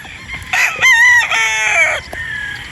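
A rooster crows loudly and close by among the chickens, one full harmonic cock-a-doodle-doo with clucks just before it, followed by quieter background sounds.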